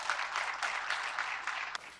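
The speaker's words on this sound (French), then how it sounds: "Et nous pouvons nous applaudir pour cela." Applause from an audience at an announcement marking the end of an Ebola outbreak, a dense, steady patter of many hands clapping that carries on evenly, with slight swells, before easing at the end.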